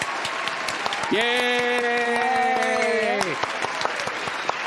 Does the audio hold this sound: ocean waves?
no